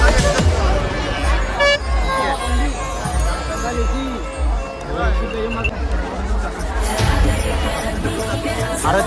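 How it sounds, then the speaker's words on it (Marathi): A dense crowd gathered at a Mahashivratri fair site to watch fish, chattering in a steady loud babble with occasional vehicle horns toots cutting through nearby. "बघा मित्रांनो मासे बघण्यासाठी लोकांची गर्दी"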